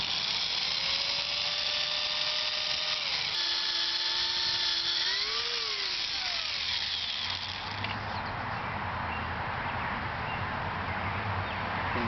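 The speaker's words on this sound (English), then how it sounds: "now that I've got the holes drilled, pilot holes drilled" A power drill bores pilot holes through a template during a telescope project at an observatory, its high motor whine gliding up and down in pitch before dropping into a rougher, lower grinding for the last few seconds.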